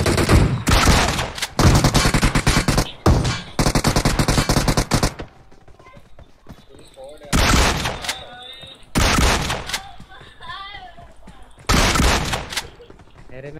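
Loud bursts of shotgun fire in the mobile battle royale game PUBG Mobile come in rapid clusters, separated by quieter gaps filled with softer in-game sounds, before another sharp volley closes the sequence.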